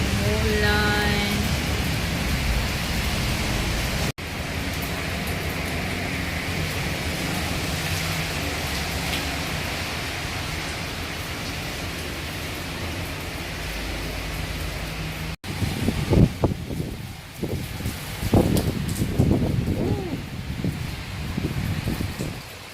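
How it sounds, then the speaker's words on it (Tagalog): Rain falls steadily as a dense, even hiss for most of the stretch, then turns into an uneven patter of heavier drips and splashes near the end. "Ulan."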